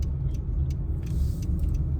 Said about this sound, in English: I got to make this left turn. There's a car coming and stuff.